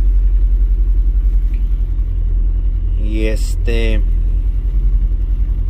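Car engine idling steadily after being started, a constant low rumble throughout, with someone speaking over it partway through.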